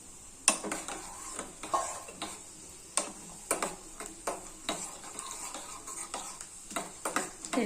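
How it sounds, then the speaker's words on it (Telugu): Nuts such as pistachios, almonds and cashews frying in ghee in a pan for sweet pongal, giving a soft steady sizzle broken by repeated scraping clicks of a spoon stirring against the pan, close and fairly quiet. "నెయ్యిలో కదండి తొందరగా వేగిపోతాయి."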